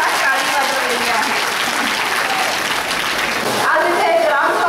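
Heavy rain pours down on an outdoor village gram sabha in Telkudgaon with a loud, continuous applause-like patter, and voices talk underneath.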